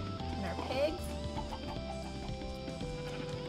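Chickens cluck repeatedly in the Minecraft video game with the Summerfields texture pack, short clucks layered over steady background music throughout.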